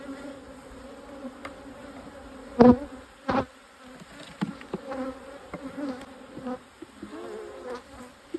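Bees buzz steadily around an open hive during a backyard hive inspection, a continuous close insect drone with a few louder passes of individual bees flying near.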